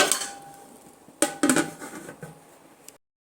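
A metal lid comes off a pot of coconut milk pulao, giving a few sharp clanks and scraping metallic knocks in a short cluster, close and fairly loud, then fading into silence.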